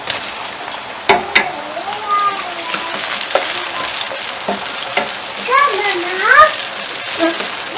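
Chopped tomatoes tipped into a pan of frying onions for dhaba-style Punjabi rajma masala, setting off a steady sizzle broken by sharp spoon clatters and stirring scrapes, with faint tonal squeaks over it.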